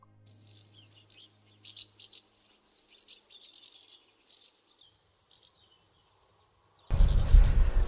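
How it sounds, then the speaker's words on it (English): House martin calls, short chirps and twittering notes in brief bursts with gaps between them, fairly faint over a quiet background, ending with a sudden louder rush of noise. "Here is one of the house martins' calls."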